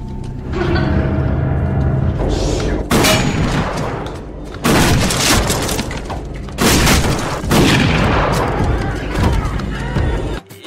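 Loud shotgun blasts ring out in a film scene, several heavy booms in separate bursts with some mechanical clatter between them and a dense, noisy background.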